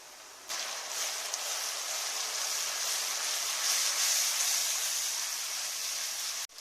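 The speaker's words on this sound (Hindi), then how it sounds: "अभी हम इसमें टमाटर डालने लगे हैं।" Tomatoes land in a pan of hot garlic and ginger for a fish fry masala curry, setting off a loud, steady hiss of sizzling that holds evenly for several seconds, close up and without talk.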